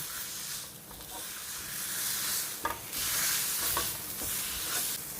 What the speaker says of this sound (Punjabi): ਆਲੂ ਲਵਾਂਗੇ ਆਲੂ ਨੂੰ ਅਸੀਂ ਮੈਸ਼ਰ ਦੇ ਨਾਲ ਮੈਸ਼ ਕਰਨਾ